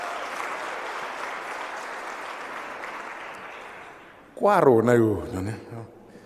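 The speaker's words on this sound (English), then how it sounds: "Let's give him a big round of applause." Broad audience clapping for about four seconds, fading out, then a voice starts speaking loudly.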